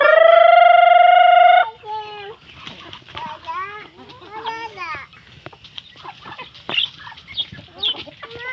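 A rooster lets out one long, loud crow, then chickens cluck and squawk in short, irregular bursts close by. A child and other people talk quietly underneath.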